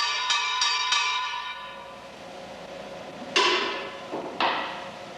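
A rigid steel tube chassis for an Austin-Healey is struck repeatedly: three quick ringing taps, then two louder hits that ring out clearly and decay slowly.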